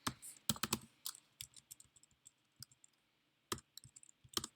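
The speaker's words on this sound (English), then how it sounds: "It's probably faster to type them." Typing on a computer keyboard: quiet, irregular clusters of crisp key clicks close by, with brief pauses between bursts and no talking.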